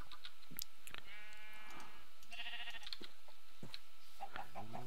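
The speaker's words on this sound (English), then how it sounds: "Come here, sheep." Sheep in a Minecraft-style video game bleat repeatedly, several wavering baa calls spaced across the clip with small clicks between them, clear and close without any talking.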